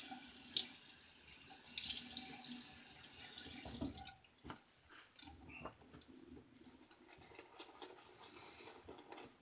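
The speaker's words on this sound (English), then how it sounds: "We'll add a little bit of moisture to the face and a slight rinse here" Running tap water from a bathroom sink, used to rinse the face during a wet shave, flows steadily and fairly close for about four seconds, then stops, leaving quiet patters and drips.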